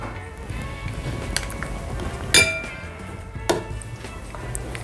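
A metal spoon strikes a serving dish twice while gajrela kheer is spooned out: one sharp, ringing clink near the middle and a softer tap shortly after, close by over a quiet kitchen background.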